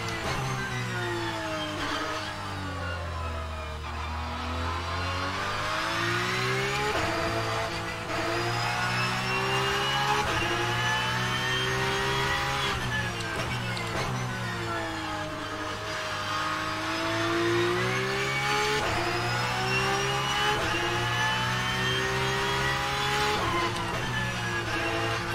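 A Porsche 992 GT3 Cup race car in the rFactor 2 sim racing game accelerates repeatedly out of corners, its engine note climbing through gears in rising, sweeping tones with brief shift dips, loud and continuous without talk.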